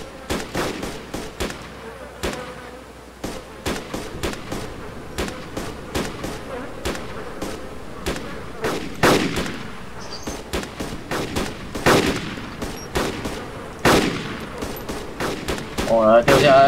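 Gunfire aimed at a helicopter in the video game DayZ comes as rapid, sharp shots in irregular bursts throughout, moderately loud over a low background drone, with a rising whine near the end.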